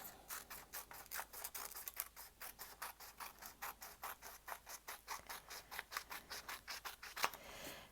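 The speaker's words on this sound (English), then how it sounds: "cut this part off, so that we have a perfect square." Scissors snip steadily through folded paper while cutting a square for a giant paper snowflake, a rapid run of close, crisp cuts with a sharper snap near the end and no talking.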